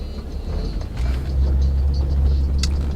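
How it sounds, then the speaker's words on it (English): A car passing on a road near a river fishing spot, a low rumbling engine and tire noise swelling as it approaches and holding steady, with no one talking. "There's another car coming."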